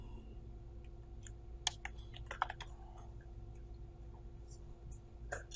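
Quiet keystrokes tap on a computer keyboard in short irregular clusters, faint over a low steady background hum.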